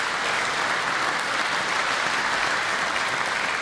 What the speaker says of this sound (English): Please give a round of applause for teachers.